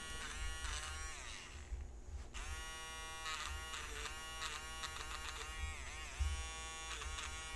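A barber's electric hair clipper buzzes close and steady, its droning tone shifting slightly in pitch as it moves, with one brief dip before the hum resumes.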